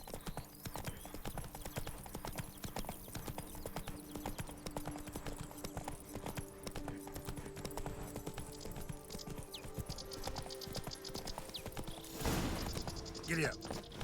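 A horse gallops with rapid, rhythmic hoofbeats throughout a scene in The Witcher, fairly faint beneath a dense music and ambience bed, with a louder burst of noise near the end.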